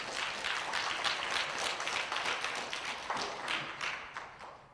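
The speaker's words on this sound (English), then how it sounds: "Let's give him a round of applause." A room full of people gives a sustained round of applause, dense overlapping claps at an even level that fade a little in the last second.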